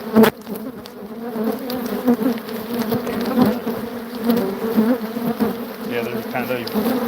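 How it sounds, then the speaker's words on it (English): Honey bees swarming around a hive in an out yard apiary, a dense, steady buzzing drone that fills the whole stretch, close and continuous with sharp passes of individual bees. "You see how many bees are attacking your phone now out of this one?"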